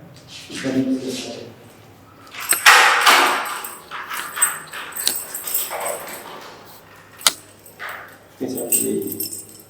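Keys jangle near a padlock being opened, with a dog whimpering and yipping nearby and people talking over the rattling metal.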